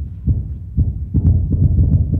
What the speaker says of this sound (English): about to dance to an organ accompaniment, the accompaniment of his own heart.